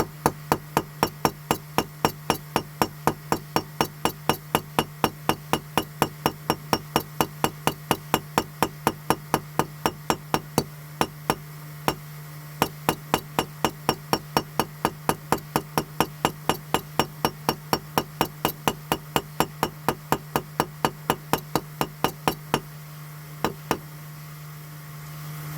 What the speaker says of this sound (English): And then get your hammer, because you've created a burr already by going down.